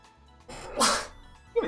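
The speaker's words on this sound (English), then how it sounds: "Sorry, I did have to sneeze." A single sharp sneeze, loud and close, rising suddenly out of near silence and followed by a short breathy sound.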